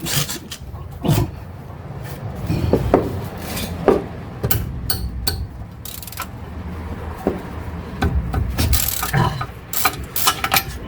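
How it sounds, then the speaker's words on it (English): Wrench work on the front brakes of a Jaguar Mk2, with metallic clinks, ratcheting clicks and tool knocks in an irregular run over low background noise, heard close and without talk. "We'll just want to loosen these bolts off."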